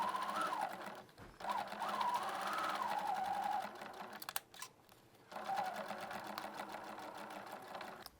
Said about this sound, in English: I've now sewn my lining together with a little bit of a hole down here for turning out